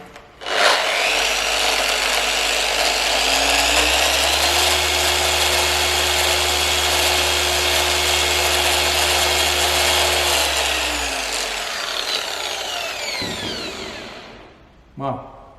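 A 2019 Rupes LHR21 Mark III random-orbital polisher spins up with a rising whine, holds a steady loud high-pitched drone for about ten seconds, then winds down, with a brief knock near the end.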